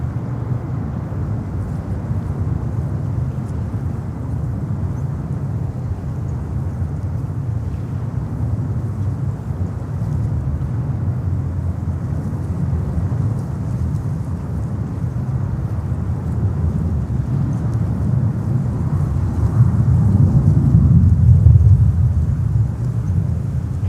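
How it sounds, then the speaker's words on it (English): A Delta Boeing 747 taking off from runway 31 left at JFK airport makes a steady, loud, low jet roar heard from a distance, swelling somewhat toward the end, with no talk over it. "Delta 747 Heavy, wind 24016, runway 31 left, split takeoff."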